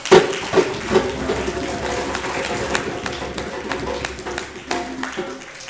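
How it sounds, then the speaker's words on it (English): Audience applause with scattered claps at a Black History event in Akron, rising from a few sharp claps into a steady wash of clapping that carries through, with a faint tonal hum and some background murmur underneath. "let's give one last round of applause to Mr."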